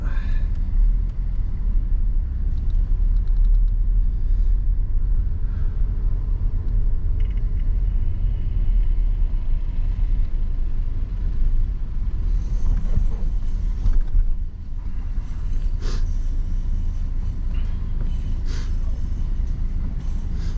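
Audi A3 8L 1.8T driving on a road, a steady low engine and road rumble running throughout at close, even loudness, with brief lighter passing noises toward the end.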